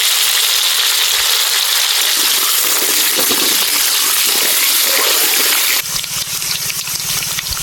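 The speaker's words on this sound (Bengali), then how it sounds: "মাংসের আলু ভাজার জন্য" Hot oil sizzling steadily as potatoes fry for chicken at an outdoor cooking gathering, a loud, continuous hiss that shifts slightly in tone partway through.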